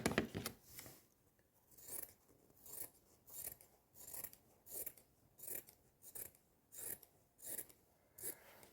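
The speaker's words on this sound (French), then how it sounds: "Mon ciseau, il n'en peut plus." Worn scissors snipping material while making an easy Easter table decoration: a steady series of about a dozen crisp, rasping cuts roughly every half second, close and quiet, with no talk.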